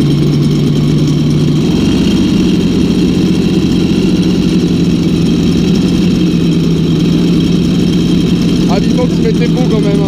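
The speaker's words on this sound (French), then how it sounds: "on va démarrer donc la 8 cylindres avec Marc" A V8 engine idles steadily at a busy motorbike show, its low steady hum running for the full length with crowd chatter around it and a few brief higher-pitched clicks near the end.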